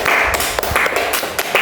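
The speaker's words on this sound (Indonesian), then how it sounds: "Tepuk tangan" Students in a classroom applauding, a short burst of scattered hand claps, close and fairly loud, with a few voices mixed in.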